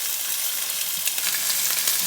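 Carne frita with turkey sausage fries in a pan, a steady, dense hiss of sizzling oil with small crackles and pops, close and constant without talk.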